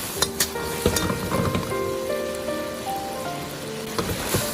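Scallions and tofu sizzle in a hot pan as they are stir-fried, a dense, even crackle with scattered pops, spatula clinks and faint tones near and moderately loud.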